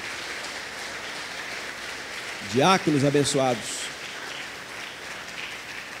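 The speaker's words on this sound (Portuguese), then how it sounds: "Vamos até aplaudir o Senhor agora pela vida deles?" A church congregation applauds the deacons with steady, dense clapping that fills the whole stretch, while a single voice speaks briefly over it midway.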